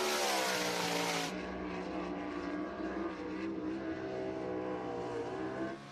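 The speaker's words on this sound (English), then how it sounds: "gasses it up down the back straightaway" A sprint race car at Cherokee Speedway in Gaffney accelerates hard down the back straightaway, a loud sustained engine wail holding steady before tailing off at the end, with no voices heard.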